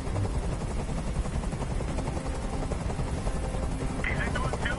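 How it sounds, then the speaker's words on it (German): Loud, continuous helicopter rotor thumping and engine roar in the video game Detroit: Become Human, with voices talking over it throughout. "Ich halte diesen Krach nicht mehr aus. Dieser Helikopter soll verschwinden."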